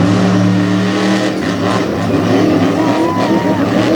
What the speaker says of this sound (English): we get ready for our first truck to go here in freestyle